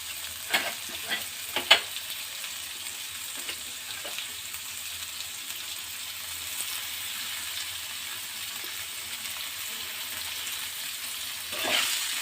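Banana flower frying in a pan with a steady bright sizzle, broken by several sharp scraping stirs near the start and another toward the end.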